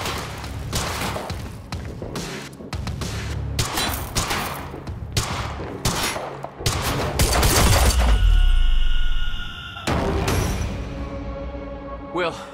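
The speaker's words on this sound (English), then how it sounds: "Stop fucking shooting at us!" Heavy gunfire erupts in Quantum Break: rapid volleys of loud, close shots and impacts, a deep booming burst, then a few more cracks, with shouting voices mixed in.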